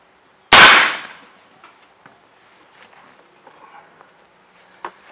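A single sharp, loud report from an AirForce Texan big-bore air rifle upgraded to 4500 psi, firing a 554-grain bullet, ringing briefly and then fading into faint clicks and handling noises, close by and without speech.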